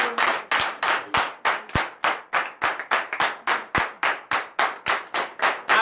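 A congregation at a morning prayer service in Benin claps in a steady, brisk rhythm, many hands together, loud and close for several seconds with no talking over it.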